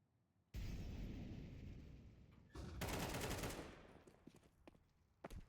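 Grenade blasts in a Counter-Strike match, a sudden loud roar that rumbles and fades, followed by a second sharp burst, then scattered faint in-game clicks and steps.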